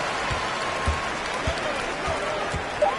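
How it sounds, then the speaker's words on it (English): Home arena crowd cheering and applauding in the NBA 2K23 basketball video game, a dense steady roar with a few louder swells, with no commentary over it. "the crowd loving every second of it"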